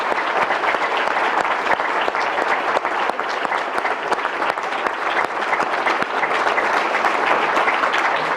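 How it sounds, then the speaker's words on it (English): A lecture audience bursts into loud, dense applause that holds steady throughout, many hands clapping together in a continuous crowd wash with no talk over it. "please join me in a round of applause for the Segal family."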